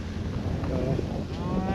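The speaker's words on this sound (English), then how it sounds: "A lot of cows and calves coming up through here." Cows and calves on a dry Nebraska ranch, a low bovine moo rising out of open outdoor ambience with some wind noise, brief and moderately close.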